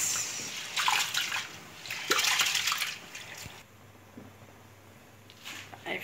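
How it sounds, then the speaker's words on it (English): Rice being washed by hand in water in a home kitchen, with bursts of swishing, sloshing and splashing that come and go, close and moderately loud, with no talking. "I will wash the rice now"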